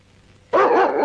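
A dog gives a single loud, close bark that starts abruptly after a quiet moment.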